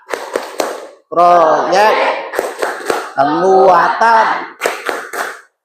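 A classroom of students claps a rhythmic P5 RA chant in unison: bursts of sharp, loud hand claps alternate with loud group chanting, the claps landing in tight clusters between the sung phrases.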